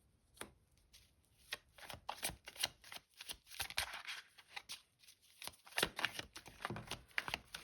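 Tarot cards are shuffled by hand in a quick series of close, crisp riffles and slaps, irregular bursts with short pauses between them, one card dropping loose along the way.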